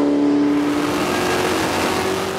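A 1407 hp Pontiac Trans Am screams at full throttle on a straight during a top-speed record run, a steady loud engine roar with a rising whine holding throughout.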